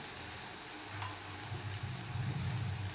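Tomatoes sizzle and fry in a pan while bitter gourd chutney is being cooked. The crackle is quiet and continuous, with low bubbling that builds toward the end, and no one speaks.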